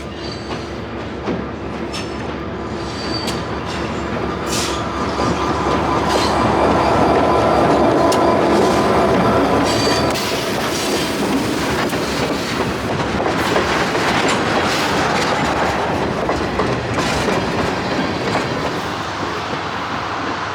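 Milwaukee Road GP40 diesel locomotive on the Lake Line Railway rolling by with rhythmic clickety-clack wheel noise and occasional squeal, loud and steady throughout.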